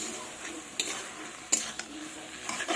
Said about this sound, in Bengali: আমি ভালোভাবে নেড়ে নিয়েছি আর সেদ্ধও প্রায় হয়ে গেছে